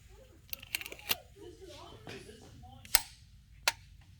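A torque wrench tightening an injector on a Cummins ISX engine gives a few sharp metallic clicks, close and distinct among soft workshop noise, while someone talks.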